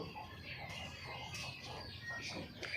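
Chicken clucking in short, irregular bursts close by, with soft background noise and a few sharper calls toward the end; no talking over it.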